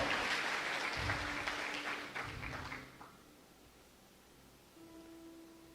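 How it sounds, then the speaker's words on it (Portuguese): A church congregation applauds at a sermon on faith, the dense clapping loud for nearly three seconds before fading out, leaving a quiet room with a faint sustained tone near the end. "Você pode aplaudir a Deus"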